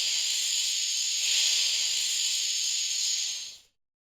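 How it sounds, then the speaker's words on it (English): A snake hisses in one long, steady, loud breathy hiss close by, swelling slightly midway before cutting off. "You heard a snake."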